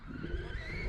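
A Tekno ET48 2.0 RC car lands from a ramp jump, then brakes hard and skids across the ground in a short, steady scraping hiss heard nearby.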